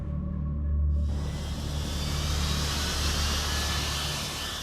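A Sea Harrier jet aircraft, its engine roaring in a loud, sustained broadband rush that cuts in abruptly after about a second and holds steady to the end.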